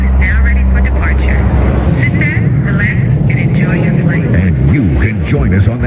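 A jet airliner departing is used as an effect in a radio station party promo: a low, steady engine rumble through the opening seconds, mixed with music and a voice speaking over it.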